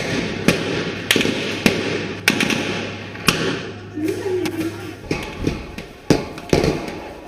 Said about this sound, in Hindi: उसी के बाद से वहां गोलियों की आवाज आने लगती है।